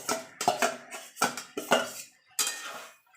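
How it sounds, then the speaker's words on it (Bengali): Fried jackfruit pieces being added to cooked spices in a cooking pan, with a string of clinks and scrapes as a metal spoon knocks against the pan, close and fairly quiet. "এবার আমি এখানে যে ইঁচড়টা ভেজে রেখেছিলাম সেটা দিয়ে দেবো।"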